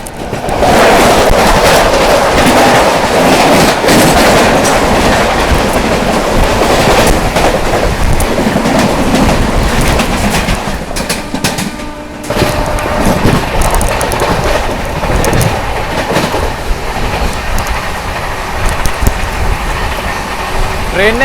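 The Bhusawal–Nizamuddin Gondwana Express crosses close by, a loud, continuous roar of wheels and rushing air that holds steady for about twenty seconds before easing slightly.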